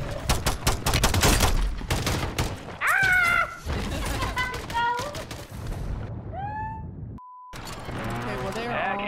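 Rapid bursts of gunfire in the Call of Duty video game, mixed with game sound effects and tonal beeps, while people talk over the action.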